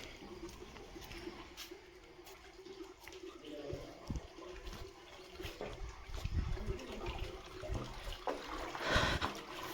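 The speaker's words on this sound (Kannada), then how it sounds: "ಮತ್ತು ಇದು ನಂದಿ ಬಾಯಲ್ಲಿ ನೀರು ಬರುತ್ತೆ," Water streams steadily from the mouth of a Nandi statue at a temple, a soft continuous trickle and splash with a faint murmur of voices around it.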